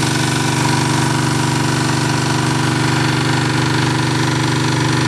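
A generator engine runs on wood gas made from small, damp dead branches and sticks, producing a loud, steady mechanical drone with an even, rapid pulsing rhythm that holds without variation throughout.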